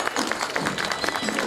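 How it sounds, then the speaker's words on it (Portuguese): Dense clapping from an audience at a civic parade event in Santa Maria Madalena, a rapid, fairly close patter of many hands running steadily through the moment with some voices underneath. "Salva de palmas a vocês."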